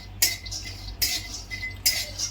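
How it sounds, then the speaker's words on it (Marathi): Peanuts dry-roasting in a hot kadai are stirred with a metal spoon, giving three sharp scraping clinks about a second apart, close and fairly quiet, with no talking. "आता आपण त्यामध्ये शेंगदाणे भाजून घेऊया"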